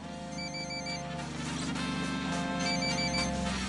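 An electronic telephone ring from Ghost Recon Wildlands, heard at a cartel base, sounds two repeating bursts of trilling tones separated by a short gap. It is steady and moderately loud over a dense low ambient rumble, with no voices.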